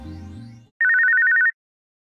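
A telephone rings in the visual novel Steins;Gate, giving one fast, warbling electronic trill that lasts under a second and sounds close and loud. It follows a brief low musical tone and ends in silence.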